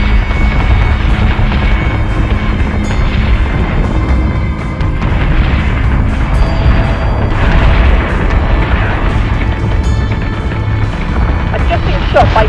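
Ship guns fire in the space combat game Battlestar Galactica Deadlock: a string of heavy booms and bursts over a dense rumbling battle bed, with voice chatter running alongside.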